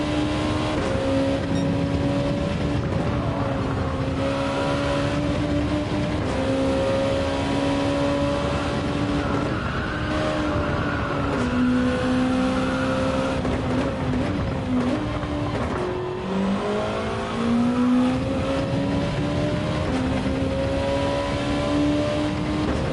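A Gr.2 race car at Fuji in Gran Turismo 7 holds a loud, continuous engine drone, its pitch climbing and dropping through upshifts across the whole stretch, with no talk over it.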